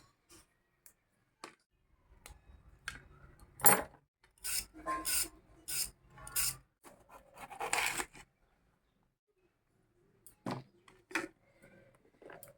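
Vegetables and chhena being cut and cleaned with a knife in a home kitchen, scraping and rasping strokes in irregular bursts, fairly close, with quiet gaps between and no talk.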